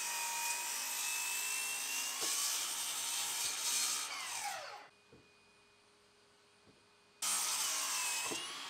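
A power saw cuts the mortised ends off reclaimed wood boards, whining loudly and steadily, winding down to near silence for a couple of seconds before starting up again at full volume.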